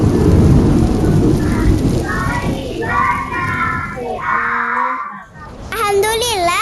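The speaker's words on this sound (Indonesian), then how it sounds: "Ya Allah, hujannya sudah turun." Heavy rain pours steadily with rumbles of thunder, loud and close, while children talk and sing over the downpour.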